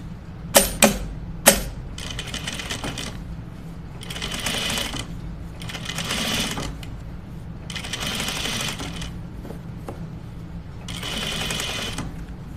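A sewing machine topstitches a ruffled dress sleeve, starting with a few sharp clicks before running in repeated steady bursts of rapid stitching with short pauses between them, close and clear with no voices.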